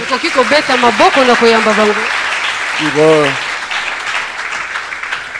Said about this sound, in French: Est-ce que nous pouvons les saluer encore par nos acclamations